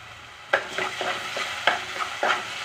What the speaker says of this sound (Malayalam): പഞ്ചസാര ഇട്ടിട്ടുണ്ട് നമുക്കിതിങ്ങനെ നല്ലോണം വരട്ടിയെടുക്കണം